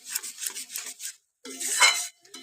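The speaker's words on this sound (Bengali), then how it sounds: "দিয়ে কিন্তু খুব ভালো করে মশলাটা আবারও কষিয়ে নেব।" Mustard and poppy seed paste with green chillies being stirred in a pan for Bengali mustard pabda fish, a series of scraping, rubbing strokes of a spatula against metal, close and moderately loud, with a brief pause midway.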